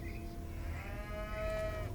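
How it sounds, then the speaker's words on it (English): A cow in the video game South of Midnight lets out a quiet, drawn-out moo over a low, steady game ambience. "Is that a cow?"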